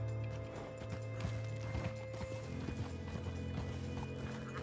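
Horse hooves clip-clopping at a steady gallop in the video game Red Dead Redemption 2, over a low ambient hum, fairly quiet, with no talking.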